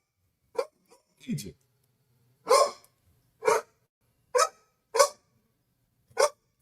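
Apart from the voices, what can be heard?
dog barking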